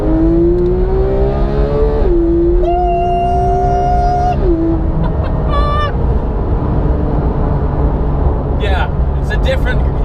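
An Audi R8 V10 Plus engine revs hard while driving, loud and close, its pitch climbing in rising sweeps broken by brief drops between gears, with a sharp higher whine late on.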